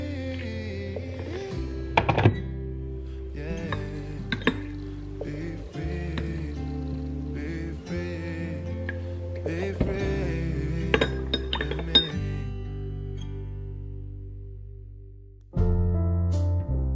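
Cup and spoon clink several times in quick, bright strikes while Yorkshire tea is made, set against steady background music that fades briefly near the end.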